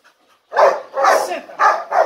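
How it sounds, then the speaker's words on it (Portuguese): A female dog barks during guard and protection obedience training, giving four loud, close barks in an uneven rhythm after a brief quiet start. "Essa é uma cadela."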